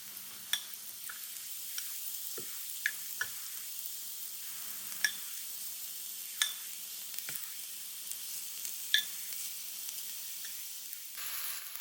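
Koftas browning in olive oil in a pan give a soft, even sizzle, with occasional faint pops and clicks as they are turned, no voices.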